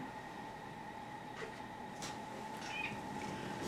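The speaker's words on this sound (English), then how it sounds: "I've got another cat." Faint meows from a cat, the sister of another household cat, rise briefly over a steady indoor background hum, with a couple of short calls near the middle and end.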